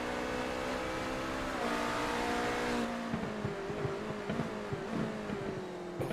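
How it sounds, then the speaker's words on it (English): Racing-game prototype race car engine drones loudly and continuously, its pitch easing down midway, then choppy pops and bursts as it slows and re-accelerates. "Coffee and engine noise. It's a great way to start the morning."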